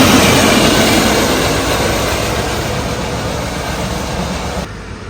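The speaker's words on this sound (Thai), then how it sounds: "ก็รถไฟก็โผล่มาแล้วครับ" Express train number 40 arriving at Bang Saphan Yai station in Thailand, a loud, steady roar of rolling carriages and wheels on rails close by, fading slightly toward the end with no speech.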